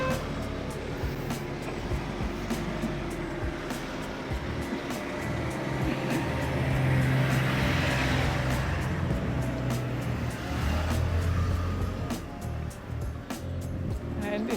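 Cars pass along a quiet hillside street in an Italian neighborhood of Florence, a steady low engine and tire rumble swelling and fading over the stretch, with faint distant traffic beneath.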